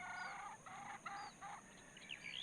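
Chickens tethered outdoors cluck in a quick run of short, repeated calls, followed by a few higher chirps, all faint and distant with no talking.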